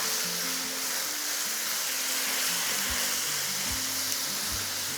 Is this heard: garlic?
yes